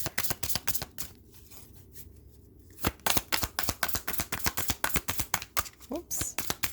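Oracle cards being shuffled by hand: a run of crisp, close, rhythmic riffling snaps, with a short quieter pause before the brisk shuffling resumes.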